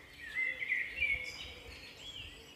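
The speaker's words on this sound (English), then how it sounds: "the birds," Birds sing outdoors by a loch, with a few thin, high chirping phrases at moderate distance over a soft, breezy background, and no voices.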